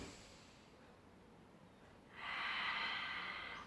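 A single long, breathy inhale during a Pilates exercise, starting after a quiet stretch and continuing steadily to the end, close and soft.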